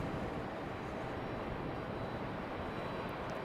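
Frontier Airbus A320neo arriving at Raleigh-Durham airport, a faint, steady broadband roar of jet engines at a distance, constant throughout with no voices.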